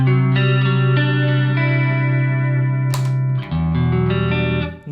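Electric guitar played through a KOR chorus pedal with mix, rate and depth turned up, sustained shimmering chords ringing loud and close, then a new chord struck halfway through, with no talking.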